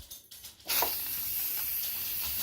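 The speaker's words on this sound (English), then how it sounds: "now I'm going to open up the steam valve" Steam hisses out of a pressure cooker's opened release valve after a natural release: a short, quieter lead-in, then a loud, steady broadband hiss that holds close and unbroken to the end.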